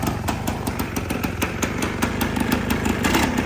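An old Suzuki motorcycle engine, left sitting in a barn for 25 years and leaking oil, runs steadily with a loud, close, even putter and regular firing pulses, with no voices.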